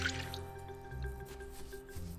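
A plant gets watered in the farming video game Littlewood, a soft drip-like watering effect heard faintly over a light background music tone.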